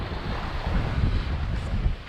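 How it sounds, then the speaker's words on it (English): Wind buffets the microphone over a steady rush of open-sea waves with a 2-3 meter swell while a sailboat heads out off Land's End, a loud continuous roar with low thuds from the hull. "The waves still got a good swell on them, maybe 2-3 meters,"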